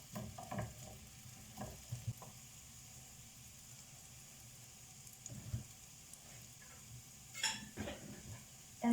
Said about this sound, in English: So I put butter and now I'm frying some garlic and onion from my garden